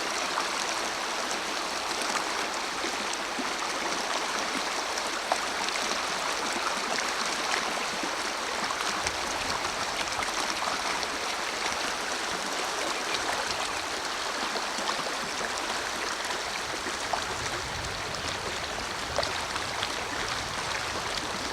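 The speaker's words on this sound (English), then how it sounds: "Give you a look how beautiful this natural stream is" The Russian River in Alaska, a clear natural mountain stream, rushes and burbles in a steady, full wash of water, close and continuous with no talk.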